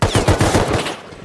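Rapid automatic gunfire in a video game, a burst of about seven close, loud shots in quick rhythm that stops abruptly, leaving a brief fading tail.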